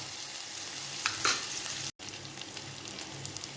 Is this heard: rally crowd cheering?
no